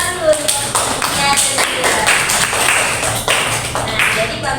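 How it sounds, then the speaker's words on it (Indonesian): Classroom applause fills the room, a steady patter of many hands clapping together for several seconds while voices carry through it. "tepuk tangan dulu"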